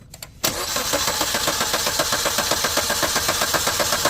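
Starter motor cranking a Maruti Suzuki Baleno with a pickup and acceleration fault, a steady rapid whirring churn that kicks in abruptly after a short quiet lead-in and runs on evenly at close range.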